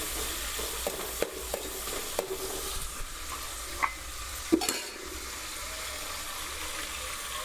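Ginger-garlic paste fries lightly in oil for bagara rice, sizzling softly and steadily at close range, with occasional sharp clicks of a spoon stirring against the pan.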